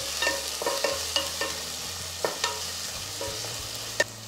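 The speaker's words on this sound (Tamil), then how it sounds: "இந்த வெங்காயத்தை நல்லா ஒரு 2லேருந்து ஒரு 3 நிமிஷம் வதக்கி விடுங்க." Ordinary onions sautéing in a pan for brinjal and drumstick sambar, a steady soft sizzle broken by several sharp clinks and scrapes of a spoon stirring against the metal, close and fairly quiet, no voices.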